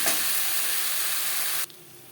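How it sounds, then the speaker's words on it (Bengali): Okra (bhindi) frying lightly in a pan, giving a bright, even sizzle that runs steadily close up and then cuts off sharply near the end, leaving quiet background. "ভেন্ডি হালকা করে ভেজে নেব"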